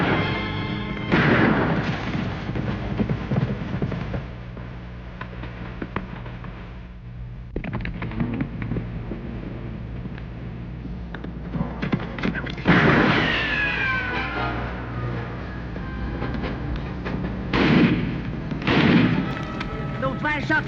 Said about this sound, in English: Those last shots, they came from Boomer's cabin.